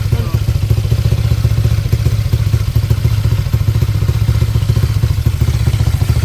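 Honda Click scooter with a 199cc big-bore engine (BRT 63mm block, Ataka 26/31 head, injector) idling close by, a steady loud low throb with constant rhythmic clatter throughout, no pauses.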